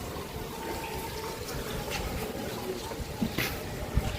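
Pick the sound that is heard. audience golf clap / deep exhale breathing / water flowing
water flowing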